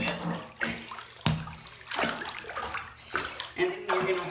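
Tap water runs and splashes in a basin during cleaning of a trumpet, a close, uneven gush with sloshing and sudden bursts, while a person talks over it.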